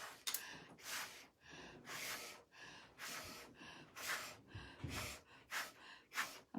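Air blown through a straw onto poured paint in short repeated bursts, about a dozen breathy puffs in a steady rhythm, close and soft.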